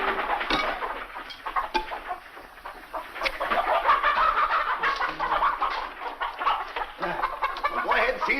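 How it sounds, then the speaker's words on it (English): Chickens clucking and squawking on a farm, a busy flock close by with dense overlapping calls throughout, with some voices mixed in. "Well, feed the chickens."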